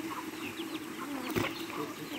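Chickens, including a naked-neck hen, cluck softly in a rural yard, with scattered faint calls, one brief sharp noise partway through and a low background murmur.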